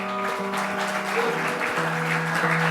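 An audience applauds to welcome a tabla maestro onto a stage, the steady clapping mixed with sustained tonal drones and notes from instruments.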